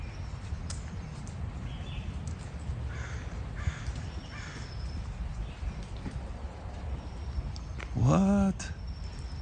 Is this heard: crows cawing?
yes